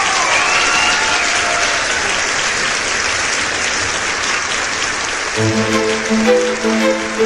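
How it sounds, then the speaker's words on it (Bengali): Audience applause fills a cartoon school-event stage as a dancer is welcomed, a dense steady clapping crowd throughout, with a bright musical tone entering near the end. "চলুন করতালির মাধ্যমে স্বাগত জানাই ইরাকে"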